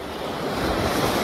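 Sea waves roll onto the beach at Punta de Rincón, a dense, steady wash of surf mixed with wind buffeting the microphone, loud and continuous with no voices.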